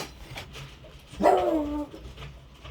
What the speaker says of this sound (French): désolée pour l'aboiement du chien, parce que là je suis un peu dehors